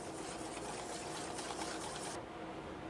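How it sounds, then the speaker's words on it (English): Eggs and egg yolks whisked together in a bowl, a steady close scraping and swishing that runs continuously for a few seconds before easing off near the end. "And we'll whisk that in."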